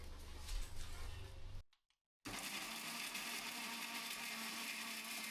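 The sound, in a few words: mixer grinder grinding biryani masala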